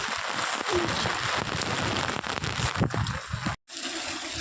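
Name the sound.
heavy rain falling outside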